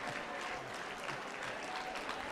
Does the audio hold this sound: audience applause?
yes